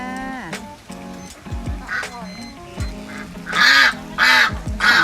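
Ducks quack and honk repeatedly, several loud nasal calls close by, growing louder toward the end, with voices mixed in.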